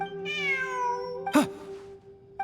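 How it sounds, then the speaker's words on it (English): A cat in the video game Genshin Impact gives a single drawn-out meow lasting about a second, clear and close, followed by brief sharp game sound effects. "Look, a cat."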